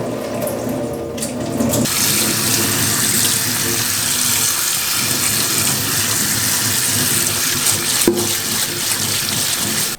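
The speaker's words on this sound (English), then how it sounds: "It's very important to rinse the snails before cooking because obviously these are not very clean creatures." Running tap water pours steadily into a colander of snails being rinsed in a kitchen sink, a continuous loud gushing splash with a brief shift in flow near the start and end.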